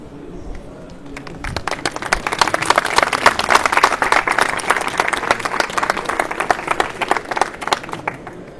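An audience at a school documentary presentation in Namur applauds, with a dense, steady burst of many hands clapping that swells quickly, holds strongly and then thins out slightly toward the end.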